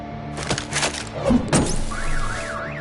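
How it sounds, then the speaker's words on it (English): A car alarm set off in the Batman Telltale game, starting with thuds and clatter, then a warbling electronic siren rising and falling in a repeating pattern near the end. "My bat stunner would set off the car alarm."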